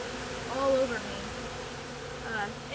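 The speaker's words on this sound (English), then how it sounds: "there's bees all over me" Honey bees swarming thickly around open feeding buckets of sugar syrup, a steady close buzzing drone with shifting pitches as individual bees pass near, continuous throughout with no talk.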